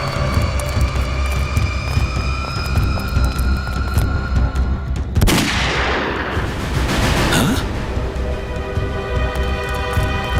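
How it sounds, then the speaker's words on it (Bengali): Gunfire in a crime drama scene: a sudden loud blast cuts through a droning background midway, and a second sharp burst follows a couple of seconds later. "গুলি চলার শব্দ।"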